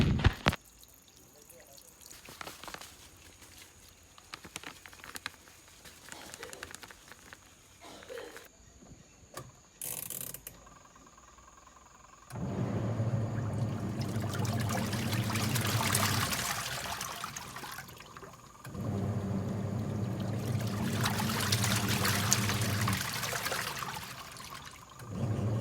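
Water pours and splashes in two long bursts during hand-washing of clothes, loud and close, with quieter clinks and handling sounds before them and no talk.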